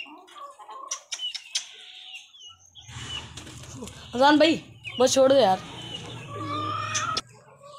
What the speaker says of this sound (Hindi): ये मुर्गा लड़ रहा है